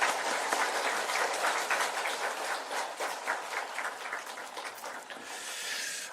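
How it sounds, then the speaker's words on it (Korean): Steady applause from a church congregation at a Korean church celebration, dense clapping sustained throughout and gradually thinning toward the end. "박수 한번"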